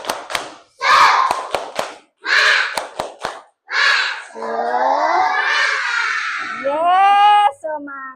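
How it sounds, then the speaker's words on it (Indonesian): Elementary school children in an Indonesian classroom perform a rhythmic clapping chant, sharp hand claps in quick patterned bursts alternating with shouted group syllables, then a longer sung-out chorus of young voices near and loud. "Supaya lebih semangat lagi, Ibu mau mendengar tepuk semangat."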